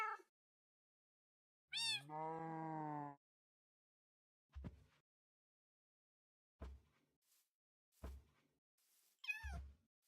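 A Minecraft cat meows in-game, one long drawn-out meow early on followed by several shorter, sharper meows and soft thunks spaced across otherwise silent stretches, close and clear.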